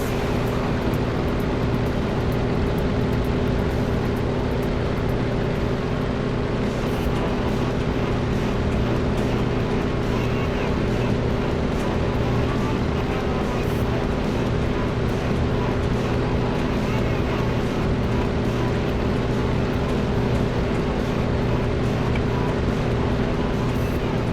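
Droning aircraft engines from a WWII flight game with a Bf 109 over Dunkirk, a steady loud hum that holds through the whole stretch under occasional talk.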